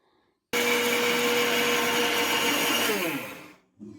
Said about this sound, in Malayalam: വെള്ളം തോർന്നതിന് ശേഷം മിക്സിയുടെ ചെറിയ ജാറിലേക്കിട്ട് നന്നായി